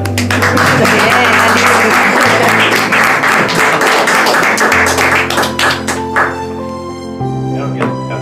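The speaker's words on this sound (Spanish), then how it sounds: "Un aplauso para Alison" Wedding guests applaud in lively, dense clapping right after a civil marriage ceremony in Santa Rosa, with a low musical drone underneath and the clapping thinning out toward the end.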